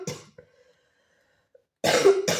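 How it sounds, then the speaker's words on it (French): A person coughs, a short cough at the start followed by near-silence, then two loud, close coughing bursts near the end. "si je tousse."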